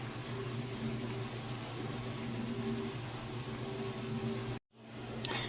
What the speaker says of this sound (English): That is the dishwasher trying to get caught up on some